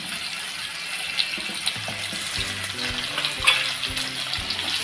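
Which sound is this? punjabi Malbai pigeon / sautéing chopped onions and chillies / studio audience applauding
sautéing chopped onions and chillies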